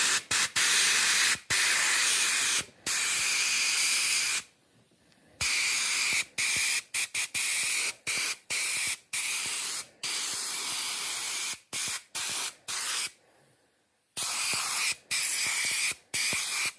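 Paint gun spraying heavily diluted Angelus paint in loud, close hissing bursts of varying length, separated by brief pauses and a couple of longer silences.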